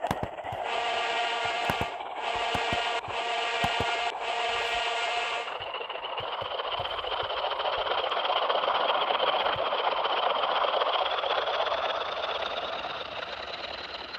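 Roblox Metro train in a video game, unit 37001 on an anti-clockwise Robloxia service, passing Ossing Station level crossing: crossing alarm tones ring in regular pulses, then a rising motor whine and steady rumble as the train goes by.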